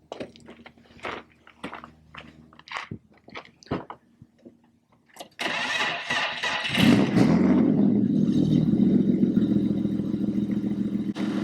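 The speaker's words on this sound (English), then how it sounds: "Pretty cold here, so the battery's not the best, but it started right up." A turbocharged BMW E36 with an M50 engine cold-starting, with scattered clicks and handling noises first, then the starter cranking briefly before the engine catches and settles into a loud, steady close idle.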